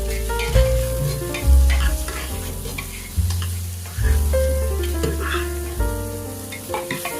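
Sliced onions frying in a pan for a fufu chicken biryani are stirred with repeated scraping strokes over a steady sizzle, with tonal background music running throughout.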